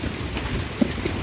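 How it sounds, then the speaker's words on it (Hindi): Hail pounding down during a dangerous hailstorm with large hailstones, a dense steady patter with a couple of sharper thuds, close and fairly loud with no talking. "ओलों का साइज बड़ा हो गया"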